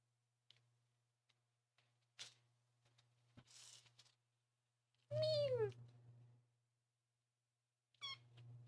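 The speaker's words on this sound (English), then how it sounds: "I love her little mews" A tiny kitten gives a few high, thin mews, one clear and close, another short one later, between quiet ticks and rustles over a low steady hum.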